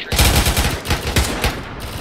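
Sporadic AK rifle fire in a military field training exercise, a stretch of rapid overlapping bursts that crack loudly and close, then thin out toward the end, with no voices over it.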